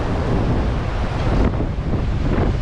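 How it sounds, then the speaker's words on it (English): Strong onshore wind roars against the microphone along with the steady wash of high surf from Hurricane Nicole on the Volusia County, Florida coast near a boardwalk, a loud continuous broadband rush with no clear individual wave breaks. "You can see the waves are still high out here."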